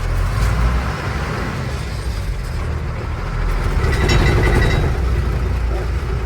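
A manual-gearbox car pulls away in first gear, its engine rumbling low and steady and close up with a broad road-noise wash, then the engine note rising slightly as it gathers speed.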